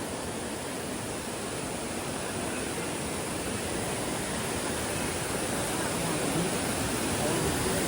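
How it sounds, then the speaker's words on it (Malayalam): Steady broadband roar of rushing water at Courtallam waterfall, loud and constant throughout with no break, a dense wash of falling water close by. "അതിൽ ഏറ്റവും പ്രധാനപ്പെട്ട വെള്ളച്ചാട്ടം ഇത് തന്നെയാണ്."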